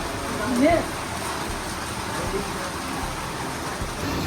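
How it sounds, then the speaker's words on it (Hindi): Rain patters steadily on a surface in Goa, a soft continuous hiss with a brief voice at the start and light background noise. "देखो फिर से हो गई बारिश शुरू"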